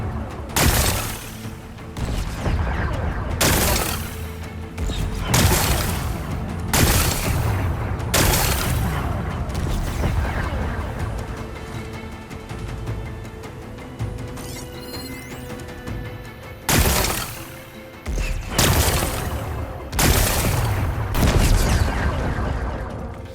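Repeated loud weapon blasts and booming rock impacts in Horizon Forbidden West, fired in several long bursts separated by brief pauses, dense and close with crashing debris.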